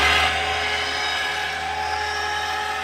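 Electric winch in a DIY camper van pulling the bed in, a steady close whining motor hum with a sharper start that settles into an even, continuous drone throughout.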